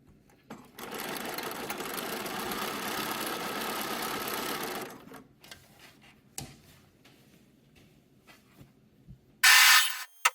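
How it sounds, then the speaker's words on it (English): A sewing machine runs steadily for about four seconds, stitching around the pocket of a Butterick 6994 summer dress. It stops, then a few faint clicks and handling noises follow, ending in a brief loud burst. "I'm going to stitch around the pocket"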